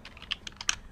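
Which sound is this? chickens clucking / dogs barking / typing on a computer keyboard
typing on a computer keyboard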